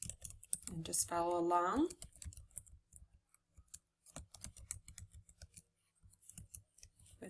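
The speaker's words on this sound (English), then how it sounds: "I'm having a hard time talking and typing at the same time." Keys clatter on a computer keyboard in quick, uneven bursts of clicks, close by, broken by brief pauses, with a person speaking briefly near the start.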